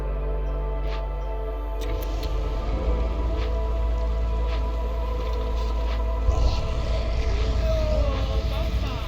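Hailstorm in the colony-building game Against the Storm, a continuous patter of falling rain and hail with a deep rumbling bed, steady and moderately loud under game ambience and music.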